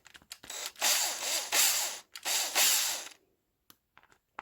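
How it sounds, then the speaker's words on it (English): An electric driver runs screws into an RC car's front bumper on an Arrma Kraton 8s, giving three close, loud whirring bursts, each about a second long, with brief gaps between them and a few faint clicks after. "I'm going to use an electric tool just to make things a bit faster."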